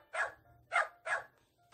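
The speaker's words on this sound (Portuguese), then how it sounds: "Os cachorros fazem au-au." A dog barks three times in quick succession, short sharp yaps at moderate distance with a faint low rumble beneath.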